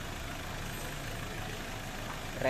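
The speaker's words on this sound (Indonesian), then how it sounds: "Ini sudah menyala, ini sudah hidup. Avanza ini turun mesin" A Toyota Avanza engine, freshly overhauled with a replaced cracked cylinder head, idles quietly and steadily in a workshop, a faint low rumble with no talking.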